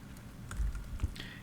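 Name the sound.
typing on a computer keyboard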